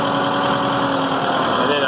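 A Massey Ferguson 2705e tractor's diesel engine runs at a steady, loud drone, close by, with a constant mechanical hum and whine and no break in the sound.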